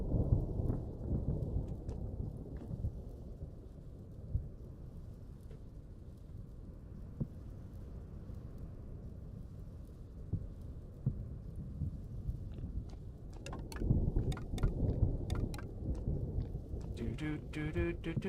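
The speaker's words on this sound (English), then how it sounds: "Thunderstorms." Thunderstorm in the game Vintage Story: steady rain hiss under low rolling thunder, with a louder rumble swelling near the end.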